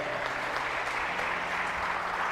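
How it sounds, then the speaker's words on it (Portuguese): A church congregation applauds during a Portuguese-language sermon, a soft, steady wash of many hands clapping heard from a distance for a couple of seconds. "Quem crê nisso, diga amém, dá um aplauso a Jesus."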